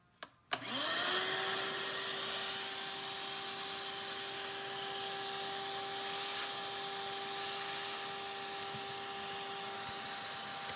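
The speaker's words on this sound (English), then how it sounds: "I'm gonna vacuum that out." Shop vacuum switching on and then running steadily while cleaning out a body cavity of an abandoned Porsche 914 under restoration, loud close whine with shifting suction as the nozzle moves.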